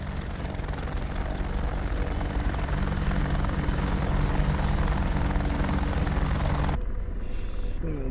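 An AH-64D Apache helicopter taxiing in the flight simulator game DCS World: a loud, steady rotor and turbine drone that carries on without a break, then cuts off sharply near the end to a much quieter hum.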